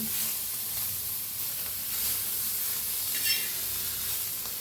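Green chillies roasting with salt in a hot pan give a continuous bright sizzle and hiss, steady throughout with a brief sharper spitting burst partway through.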